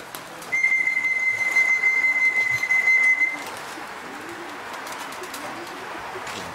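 Racing pigeons coo softly nearby as they arrive at the loft while a steady high electronic beep sounds for a few seconds, then stops, leaving the birds' low murmuring.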